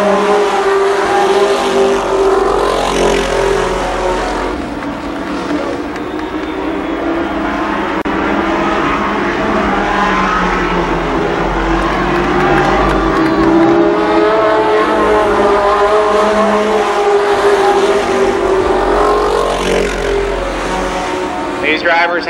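Stock cars race around Columbus Motor Speedway in a 1993 30-lap event, including a Chevrolet Lumina. Loud, steady engine roar carries throughout with a commentator talking over it.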